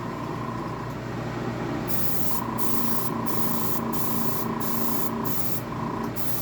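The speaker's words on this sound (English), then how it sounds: "I really like airbrushing all my parts now." A siphon-feed dual-action airbrush sprays paint onto model parts, giving a loud, steady close hiss broken by short regular pauses as the trigger is worked, with no talking.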